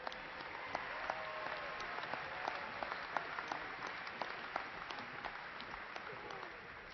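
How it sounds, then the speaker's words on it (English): A commencement audience applauds graduates with a thin, fairly distant patter of scattered hand claps that rises in sharp individual snaps over a soft hall murmur. "Please honor these graduates with a round of applause."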